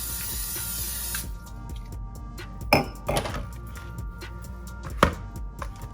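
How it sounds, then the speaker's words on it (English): A short hiss of cooking spray lasts about a second, followed by a few sharp clatters and knocks of a container being handled. "we're gonna spray our container that we put it in"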